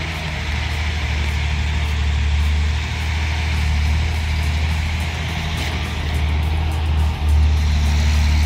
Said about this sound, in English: You see that truck? 11 tons. And it's climbing that snowy hill with just a net on the right wheel.